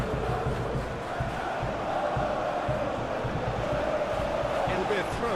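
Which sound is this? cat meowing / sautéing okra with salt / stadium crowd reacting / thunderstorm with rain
stadium crowd reacting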